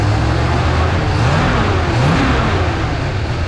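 Engine of a 1965 Plymouth Fury wagon with a new thermostat, running cold and being revved, a loud close rumbling roar with rising and falling pitch throughout.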